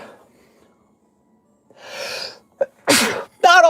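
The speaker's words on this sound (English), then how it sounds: "I gotta sneeze" A single person sneezes up close, with a sharp inhaled gasp building up before the loud explosive sneeze and a brief noisy breath after, with no talking.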